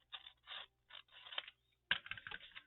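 Scissors snip a piece off the bottom of a paper envelope: several short, quiet cutting strokes close by, then a slightly sharper final snip and rustle.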